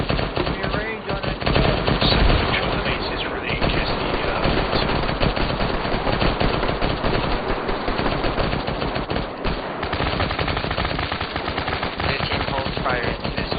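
Sustained machine gun fire in a military team video game, dense rapid bursts continuing loud and nearly unbroken throughout, with faint radio chatter underneath.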